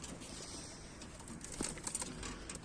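A posta breed pigeon coos softly near a loft, a few low murmuring calls over steady background hiss and faint rustling.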